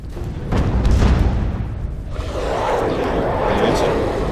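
A video game explosion in the sci-fi shooter Alien Breed Impact: a deep, loud boom bursts out and then rumbles away into a sustained, noisy roar.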